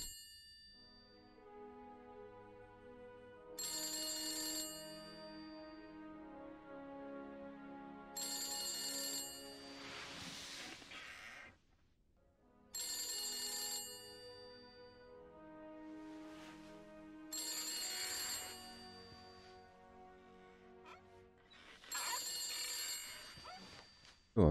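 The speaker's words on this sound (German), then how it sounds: "Oh, klingelt ein Telefon" Telephone ringing in the horror video game The Beast Inside: repeated bursts of an old-style bell ring, about five rings separated by pauses, fairly faint with some other noises between rings.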